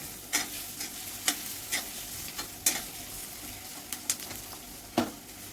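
Finely chopped onions sautéing in butter and oil in a pan, a steady soft sizzle punctuated by regular sharp spatula scrapes and taps at intervals, with no voices.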